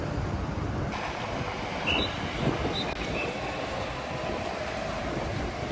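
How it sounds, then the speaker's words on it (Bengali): Ambience inside Lisbon's central train station: a continuous rumble of rail traffic and hall noise with faint squeals and clatter, distant and steady. "আমার সামনে যেটা দেখতে পাচ্ছেন এটা লিসবন সেন্ট্রাল ট্রেন স্টেশন"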